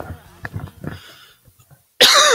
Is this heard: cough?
yes